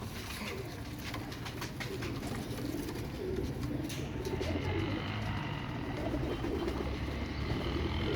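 Several pigeons coo continuously in a dense, low murmur, moderately distant, layered over steady background noise with faint chirps and no speech.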